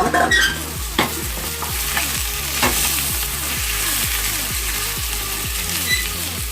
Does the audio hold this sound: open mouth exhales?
no